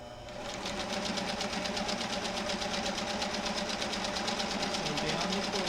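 A sewing machine runs continuously as it stitches down the fold of a quilt block, a close, fast, even mechanical whirr with a rapid rhythmic chatter of the needle that starts up and holds steady.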